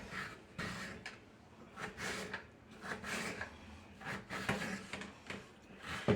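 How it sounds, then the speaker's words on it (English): A knife slices through peeled raw potatoes for homemade mashed potatoes, a quiet, regular series of rubbing cuts against a board, about a dozen strokes, with no talking. "I have the potatoes peeled, so now Mama's gonna cut them up"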